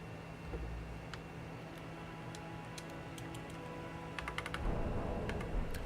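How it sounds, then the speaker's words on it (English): Keys tapped on a computer keyboard, light scattered clicks building into a quicker cluster of typing toward the end, close and fairly quiet over a soft background hum. "Okay, that's my keyboard."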